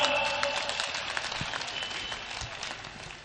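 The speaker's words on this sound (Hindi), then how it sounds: "ताली बजाओ तो जोरदार।" Audience applause at a Hindi kavi sammelan (Chakallas poetry gathering, 2019), a broad wash of clapping that stays steady and fairly loud throughout before tapering slightly.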